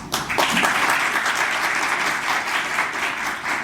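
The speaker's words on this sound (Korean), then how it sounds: "박수로 좀 화답해 주시면 좋겠습니다" Attendees at a World Korean Press Association ceremony clap together in a loud, sustained round of applause that holds steady throughout.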